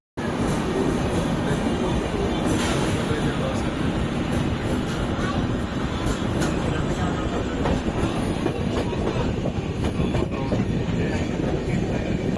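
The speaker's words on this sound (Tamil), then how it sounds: "பக்கத்தில் பார்த்தீங்கன்னா இன்னொரு ட்ரெயின் உள்ளே அரைவ் ஆகிட்டு இருக்குங்களா" Another express train rolling into Salem station, a steady loud rumble of wheels and rail clatter lasting throughout, with a faint squeal.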